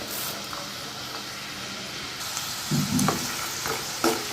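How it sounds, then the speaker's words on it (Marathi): Peanuts frying in hot oil for murmura chivda, a steady broadband sizzle with occasional stirring scrapes and small crackles, loud and close, no voices. "पहिल्यांदा आपण शेंगदाणे त्याच्यामध्ये तळून घेऊया"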